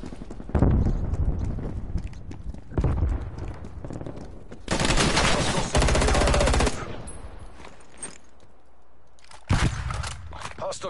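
Gunfire in Call of Duty: Black Ops Cold War, loud close bursts of rapid automatic fire broken by short gaps, with a softer quieter stretch in the middle.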